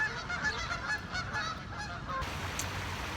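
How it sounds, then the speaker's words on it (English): A family of ducks outdoors gives repeated honking, goose-like calls that stand out over steady background noise, fairly close and continuing through the stretch. "I got a family of ducks standing behind me."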